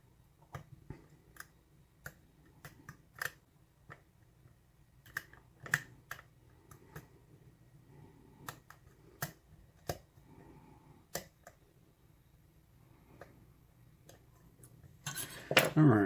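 Lock pick working a Euro cylinder lock, producing many small, sharp pin clicks at an irregular pace, close and quiet, with a brief louder rattle near the end.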